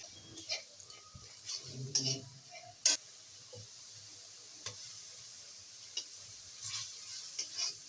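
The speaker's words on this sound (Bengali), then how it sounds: "ভালো করে মশলাটা কষিয়ে দিচ্ছি" Ground spice paste with salt, turmeric and Kashmiri chilli fried and stirred in a pan: soft sizzling under scattered scraping and metallic spoon clinks, fairly faint and close, no talk.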